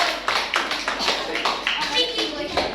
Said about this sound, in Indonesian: Tepuk tangan buat kita semuanya ya Pinky.